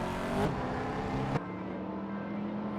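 A BMW 7 Series engine in a racing video game drones steadily at close range, a continuous loud hum that shifts pitch abruptly partway through as the car changes gear.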